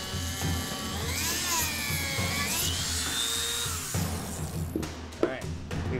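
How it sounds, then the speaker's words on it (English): A Dremel rotary tool whines at high speed as it drills a hole through metal, pitch sweeping up and down under load before cutting off, followed by a few light clicks. "We're gonna use our trusty Dremel tool to drill a hole."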